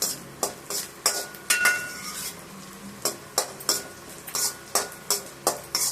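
Ingredients for Andhra paruppu podi sautéed in a pan, a spoon scraping and clinking against the metal in a steady rhythm about twice a second over a soft sizzle, close and fairly loud.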